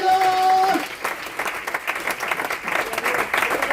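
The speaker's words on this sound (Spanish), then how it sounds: "Fuerte ese aplauso, aleluya" A church congregation at an evangelical service in Durham, North Carolina, bursts into loud, dense applause. A sustained tone rings briefly at the start, then steady clapping fills the room with a voice faintly underneath.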